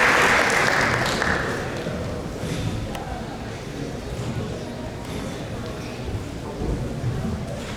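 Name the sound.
applause welcoming a speaker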